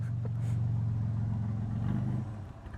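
A rat rod custom car's fuel-injected engine revs up and holds a steady, loud low growl for a couple of seconds, then drops back toward idle near the end.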